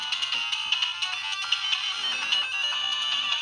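An RS-8D handheld game console powers on with a bright electronic melody, a steady synthesized ringtone-like tune with rhythmic beeps, played close and alone.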